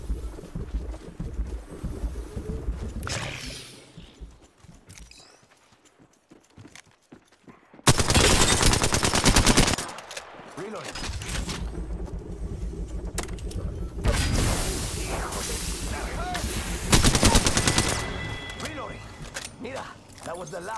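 Gunfire in the battle royale shooter Apex Legends, loud bursts of automatic weapon fire in stretches mixed with mechanical clanks and game effects, with a voice speaking over parts of it.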